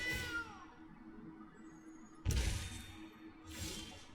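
Cat card being played in the Magic: The Gathering digital game, giving a short sampled meow at the start, followed later by a loud whooshing card effect and another burst, quiet between.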